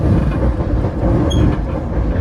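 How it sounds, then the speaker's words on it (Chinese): Passenger train passing Matianxu station on a Chinese railway, a steady loud low rumble with rolling wheel noise, close by and continuous throughout. "下午1点45分，直5东1次列车通过马田墟站"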